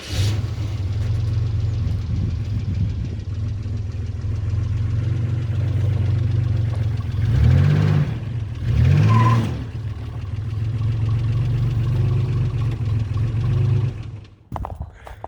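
A Hummer H2 V8 engine idles and revs hard during an off-road flex and brief burnout, with a steady low rumble that surges twice in loud bursts before cutting off abruptly near the end.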